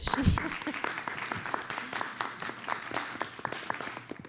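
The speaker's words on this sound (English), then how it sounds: "a round of applause for Monica, everybody." Audience applause during a Q&A session, a round of scattered clapping at moderate distance that follows a brief bit of voice at the start and stays fairly soft throughout.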